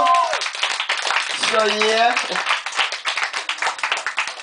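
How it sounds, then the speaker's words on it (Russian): A concert crowd in Saratov claps for their city at a rock show, a dense, sustained wave of applause with scattered cheers, while someone talks and shouts over it near the start. "О, похлопаем городу!"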